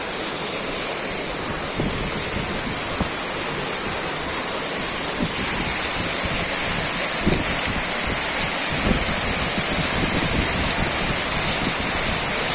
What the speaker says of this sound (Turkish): şelalenin can alıcı noktasındayız